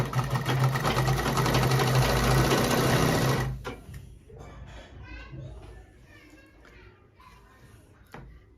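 An electric sewing machine stitches a kameez with a loud, close, rapid mechanical whir for a few seconds, then stops, leaving quieter room noise with children's voices in the background.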